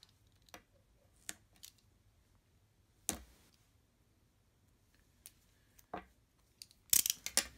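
Scissors snip a small piece off a roll of electrical tape, a few sharp, close cuts scattered across a quiet stretch, ending in a quick cluster of louder snips.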